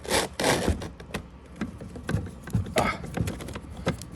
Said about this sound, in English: I think I got the right screwdriver right here.